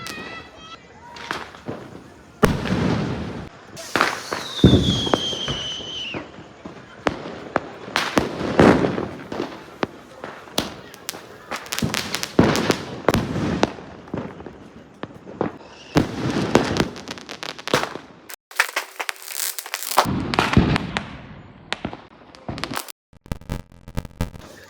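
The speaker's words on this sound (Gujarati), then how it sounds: "આખા ગામમાં કેવા ફટાકડા ફૂટે છે અમારા ગામમાં તમને બતાવું." Diwali firecrackers and fireworks burst across a village, sharp loud bangs and crackling volleys, one whistling rocket, some near and some distant, with people talking between explosions.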